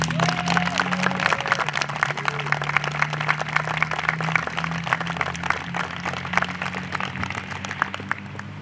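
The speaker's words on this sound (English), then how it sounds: "please join me once again in applauding all of our new Honor Society members." An audience applauds new National Honor Society members at a school induction ceremony, with dense, steady clapping that continues throughout. A brief tone sounds near the start.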